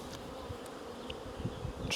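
Honey bees buzz steadily around an opened hive during a honey harvest after rapeseed bloom, a dense close drone with individual insects passing near.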